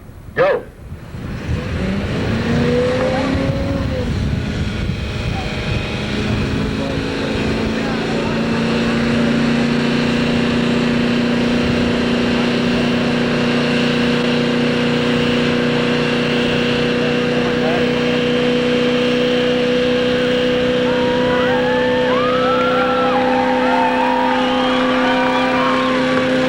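Red truck with a 400 small-block V8 at a 1992 car show in Brighton, Missouri, revving hard into a long sustained burnout, a loud steady roar with rising whine and a crowd audible in the background.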